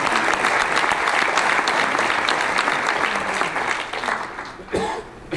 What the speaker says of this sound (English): Give him one round of applause.